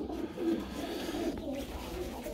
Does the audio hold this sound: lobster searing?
no